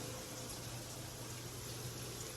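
A bathroom tap in a house in the mountains of Idaho runs hot and cold water in a steady, even hiss that stays faint and constant throughout, with no voices.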